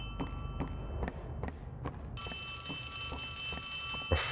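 A phone rings inside the Poppy Playtime Chapter 3 video game, repeated electronic tones starting partway through over a low ambient background dotted with soft footstep-like thuds, ending with a louder clatter.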